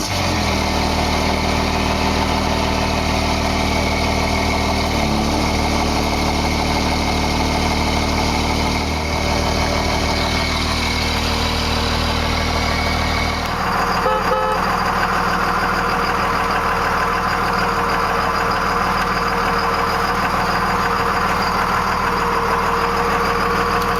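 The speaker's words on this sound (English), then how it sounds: "Gotta love the sound of a diesel." A 1998 Dodge Ram 2500 with a Cummins turbo diesel idles with a loud, steady rumbling clatter and a constant high turbo whine, close up and unbroken throughout.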